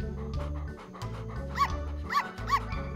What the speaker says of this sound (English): Oh, look, an adorable litter of puppies.